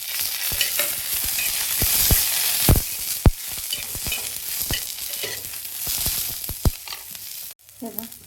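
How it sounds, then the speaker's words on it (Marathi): Green chillies roasting in a little oil in a pan for a spicy okra thecha, a steady close sizzle broken by sharp clacks and scrapes of a spoon stirring. "मिरच्या भाजून घेते तेल टाकून"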